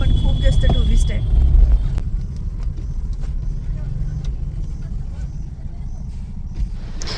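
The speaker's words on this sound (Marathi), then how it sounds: "हे बघा ट्रॅफिक" Road traffic crawls through the hill station of Landour, with car engines rumbling close by, louder at first and then a steady lower drone, while a voice talks over it.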